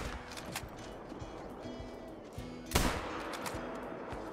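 A single loud rifle shot rings out partway through while hunting quail in the Call of the Wild game, set against quiet outdoor ambience with faint ticks and clicks before and after.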